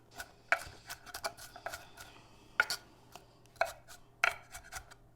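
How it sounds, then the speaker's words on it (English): Red onion being minced with a knife on a board, irregular sharp chops with a few louder thuds between lighter taps, close and clear with no talking. "Going to mince"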